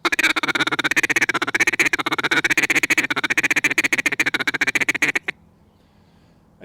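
A duck call imitates Australian black duck chatter: a fast, continuous run of tightly packed quacking notes for about five seconds, then cuts off abruptly into near silence.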